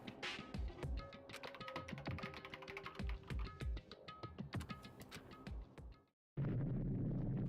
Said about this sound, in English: That is my typing noise.